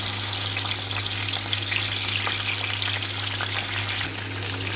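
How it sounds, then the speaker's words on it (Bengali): Fish pieces frying in hot oil until reddish-brown; a dense, continuous hiss and crackle, close and even throughout, with no voices. "মাছগুলো দিয়ে দিচ্ছি, লাল করে ভেজে নেব মাছগুলো"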